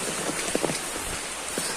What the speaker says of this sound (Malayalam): വെള്ളത്തിന്റെ ഒഴുക്കാണ് മഴവെള്ളത്തിൻ്റെ ഒഴുക്കാണ് നിങ്ങളിപ്പോ കണ്ടുകൊണ്ടിരിക്കുന്നത് മഴ ശക്തമായിട്ട് തന്നെ തുടരാണ്